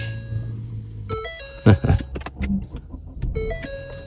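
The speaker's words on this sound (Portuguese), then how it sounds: "Olha o banquinho indo pra frente." A small electric seat motor in a Ford Fusion Titanium whirs in short steady stretches, moving the seat forward, stopping and starting, with clicks and a knock inside the quiet car.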